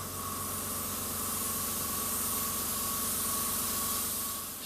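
An airbrush sprays red paint in a steady, close hiss lasting several seconds, with a faint mechanical hum from the compressor underneath and no talking.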